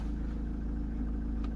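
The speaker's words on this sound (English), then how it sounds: "I'm turning on the ignition and switch on the AC of Mahindra XUV500." Mahindra XUV500 SUV engine idling steadily with the air conditioning running, a low continuous rumble and hum from inside the cabin, no talk.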